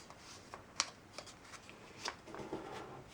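Orange craft paper folded twice by hand, giving a few sharp crinkles and creases among soft rustling, close and quiet with no voices.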